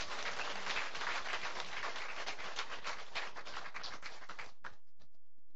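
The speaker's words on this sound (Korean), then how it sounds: "박수 한번 하겠습니다." A church congregation of about thirty applauds together in a Sunday worship service, dense steady clapping that fills the room for several seconds before quickly trailing off into a few last claps.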